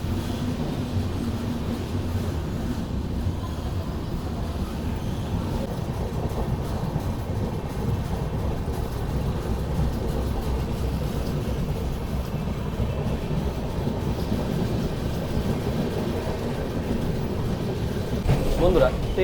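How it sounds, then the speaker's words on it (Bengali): The 12342 Agnibina Express pulls out of Durgapur railway station with a steady, loud, close rumble of rolling wheels that runs throughout and swells briefly near the end. "আমার ট্রেন ছেড়ে দিল দুর্গাপুর রেলওয়ে স্টেশন"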